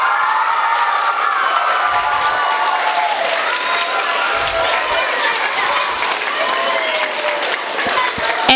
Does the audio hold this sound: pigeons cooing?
no